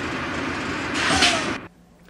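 A heavy cathedral door in Ireland is pushed open with a short scraping creak over steady broadband background noise, then everything drops abruptly to near quiet.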